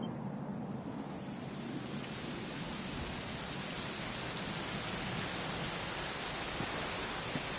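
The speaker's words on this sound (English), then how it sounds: "it was raining like this the last time I ever saw her" Steady rain pours in a Dragon Quest XI game scene, a dense continuous hiss with a low rumbling bed that stays even and close throughout, with no voices over it.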